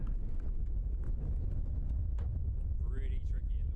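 Strong wind buffets a microphone at an outdoor plane-spotting spot at Christchurch airport, making a continuous deep rumbling roar, with a faint voice partly buried underneath.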